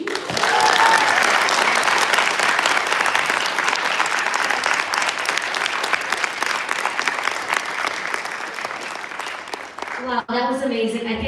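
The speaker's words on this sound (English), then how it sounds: "One more round of applause for Missy." Loud, sustained crowd applause at a campus forum honoring an Olympic swimmer, dense clapping that tapers slightly before a voice starts speaking near the end.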